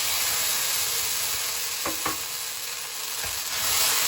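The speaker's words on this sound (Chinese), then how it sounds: "咱们把咱们调好的这糖醋汁下锅，" Sweet and sour sauce hisses in a hot wok with a loud, even sizzle, broken by a few brief scraping clicks partway through.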